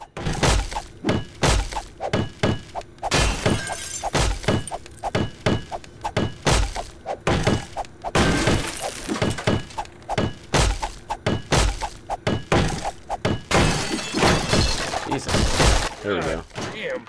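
Repeated heavy impacts smash at a tough door in the zombie survival game 7 Days to Die. Thuds, cracks and splintering hits come in rapid bursts for over fifteen seconds, loud and close, with some voices mixed in.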